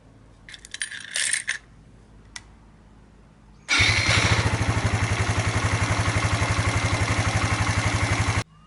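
A four-stroke motorcycle engine fires up after a few light clinks, then settles into a loud, steady, fast-pulsing idle as it warms up, with no voices.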